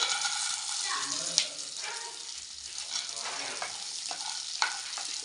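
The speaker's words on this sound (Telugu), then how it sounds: "ఇలా పచ్చిమిర్చిని బాగా ఫ్రై చేసుకోవాలి. ఇందులో మనం పల్లీలు యాడ్ చేసుకుందాం." Green chillies and peanuts frying in oil, with a continuous close sizzle and a few stirring scrapes.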